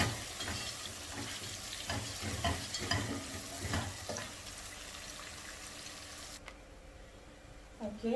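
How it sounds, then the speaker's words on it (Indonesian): Shallots, garlic and ginger sauté in a pan for Malaysian beef curry with a soft, steady sizzle and stirring scrapes, close and quiet, the frying hiss dropping away near the end. "Oke, kita tumis dulu sampai nanti dia naik bau ya."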